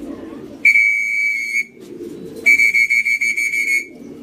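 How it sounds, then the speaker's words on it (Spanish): At a racing pigeon loft, sharp shrill whistle blasts ring out loud and close in two long bursts, the second pulsing rapidly, with soft low cooing and rustling in the gaps between them. "Ahí están las palomitas, acaba de llegar el tiro"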